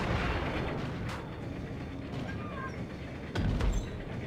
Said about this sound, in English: we're shooting long range here